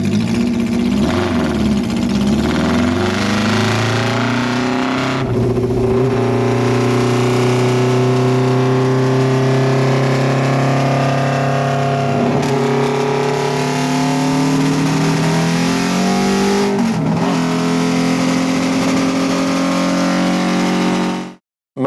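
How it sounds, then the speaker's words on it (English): A classic racing motorcycle prepared for the Manx GP Senior Classic, with a single megaphone exhaust, running with a steady, buzzy harmonic drone and brief dips and blips of the throttle, close and loud. "this bike sounds very different to Aaron's"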